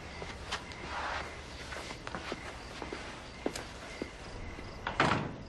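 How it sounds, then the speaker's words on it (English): A house door is opened amid a few sharp clunks and thuds, with faint footsteps and rustling in between and a louder knock or latch sound near the end, all fairly close in a quiet room. "I'll get the door."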